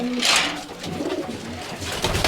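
A Giribaj high-flying pigeon coos on a farm, giving repeated soft, throaty calls close by with a steady rhythm and faint room noise behind.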